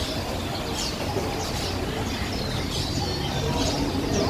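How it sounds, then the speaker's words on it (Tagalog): A large flock of pigeons at a bird market coos and chirps in a dense, continuous chatter, with occasional faint wing flutters, steady and close throughout. "Grabe, ang dami nilang kalapati dito."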